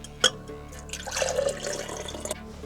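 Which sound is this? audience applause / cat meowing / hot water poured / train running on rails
hot water poured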